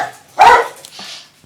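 Two pet dogs barking at home, one loud sharp bark burst followed by softer yips and a faint distant bark.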